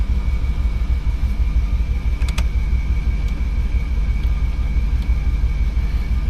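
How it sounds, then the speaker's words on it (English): A 1975 Oldsmobile Delta 88 engine idling just after a cold start, a loud, steady low rumble close by with a couple of brief clicks partway through. "We'll go ahead and get the Delta started up. It's a cold start. We're gonna let her idle for a second."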